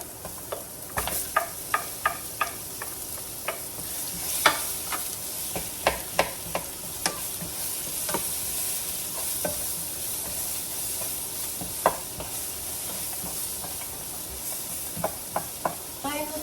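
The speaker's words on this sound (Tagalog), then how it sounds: "Konting mantika lang. Yan, ilalagay ko na yung ating onion." Onion frying in a little oil in a pan, a steady close sizzle with bursts of spattering pops and scraping stirs scattered throughout, no talk over it.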